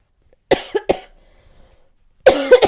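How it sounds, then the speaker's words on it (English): A fit of coughing during a live stream, three sharp close coughs in quick succession, then near silence before another harsh, throaty coughing burst at the end. "Having a cough attack, that's great."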